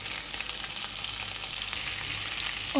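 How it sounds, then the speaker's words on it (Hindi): Onion pieces, separated by hand, fry in a pan for a besan and onion sabzi. A steady, even sizzle holds throughout with no talking, and a small clink comes near the end. "और इसी में डालने हमने ये प्याज।"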